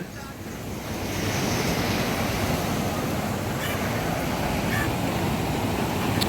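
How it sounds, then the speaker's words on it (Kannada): Strong sea waves surge and crash at Panambur beach during rain, a loud continuous roar of surf with wind buffeting the microphone throughout, no voices. "ಮಳೆ ಬರ್ತಾ ಇದ್ದಂಗೆ ಅಲೆಗಳ ರಭಸನೂ ಜೋರಾಗೋಯ್ತು."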